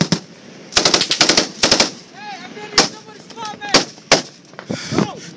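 Intense close gunfire from a firefight in Afghanistan: rapid machine-gun bursts and single shots, loud and sharp, with shouted voices between the volleys.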